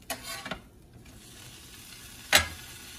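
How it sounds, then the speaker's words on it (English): Food frying in butter in a pan during a breakfast cook-up with grits and cinnamon, a soft steady sizzle under brief clinks and stirring bursts, one sharper scrape near the end. "Hear that? Sizzling, it's cooking."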